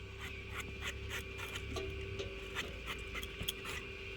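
A knife working through a ripe ash gourd, giving repeated soft rasping, scraping strokes close by over a steady low hum.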